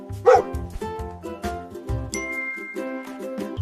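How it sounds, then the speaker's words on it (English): A dog barks in a children's alphabet song, with a few yapping woofs near the start and then chiming, tinkling music going on alone. "Dog says woof."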